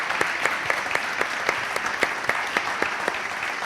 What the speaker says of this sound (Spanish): Un aplauso a Bernal, por favor